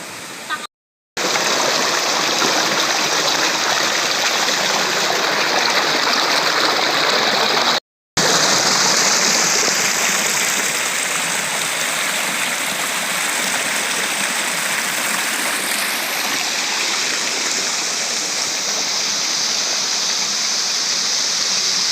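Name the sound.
water flowing from a pipe in a dark spring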